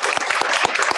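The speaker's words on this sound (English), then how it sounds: "perhaps we could have a really big round of applause as a thank you" An audience at an insect hotel tutorial session claps in a brief, loud burst of close, steady applause.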